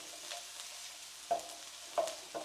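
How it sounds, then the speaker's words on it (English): Onions sizzle gently in a tablespoon of olive oil in a pan, a soft, steady hiss with a few brief stirring scrapes and clacks near the end. "we're gonna start with 1 tablespoon of olive oil. Toss in our onions. Give it a little mix."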